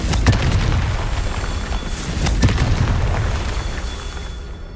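A Confringo blasting spell from Hogwarts Legacy goes off in deep booming bursts, two sharp blasts standing out over a continuous low rumble with no talking.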